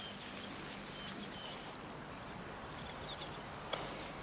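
Coconut milk mixed from powder and water poured over food in a pan, a steady soft liquid stream pouring alone throughout, with a faint brief clink near the end.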